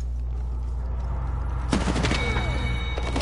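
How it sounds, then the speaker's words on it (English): A PS4 video game: steady low rumble, then a sudden burst of rapid gunfire with ringing metallic echoes in the last half, loud and near. "That was you shooting."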